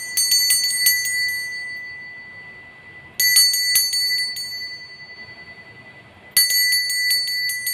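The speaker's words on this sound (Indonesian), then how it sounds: "Kita akan melanjutkan dengan ditandai lonceng berbunyi." A bright bell rings three times at even intervals, each strike sharp and ringing out before slowly fading, with nothing else heard.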